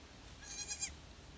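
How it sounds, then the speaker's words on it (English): A goat gives a short, fairly faint bleat over a steady low background, a single wavering call under a second long. "I like goats as survivalist, homesteader, prepper animals because they are small."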